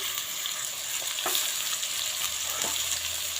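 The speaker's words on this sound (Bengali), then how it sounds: "এখন এটা আলুটা আমি একটু ভেজে নেব" Potatoes with salt and turmeric frying in a pan, a loud continuous sizzle up close with occasional scrapes and stirs of a utensil.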